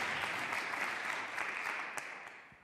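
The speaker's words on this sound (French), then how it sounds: "Vous pouvez l'applaudir. Et applaudir ses musiciens." A studio audience claps for Alpha Blondy and his musicians on a French-language TV show, a dense, steady round of applause that tapers slightly toward the end, with no talk over it.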